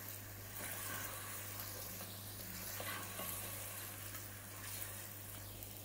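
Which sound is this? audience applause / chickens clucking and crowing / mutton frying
mutton frying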